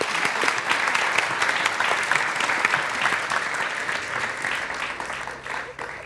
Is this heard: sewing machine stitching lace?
no